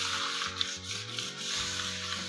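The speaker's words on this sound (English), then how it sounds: "I'm just greasing my baking tray with" A block of butter rubs across a baking tray in soft, steady scraping strokes, close and quiet, with no talking.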